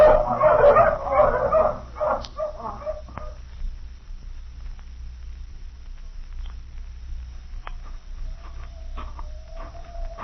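Several dogs bark and yip in a noisy burst at first, then fade into sparse, distant yelps over a quiet low hum.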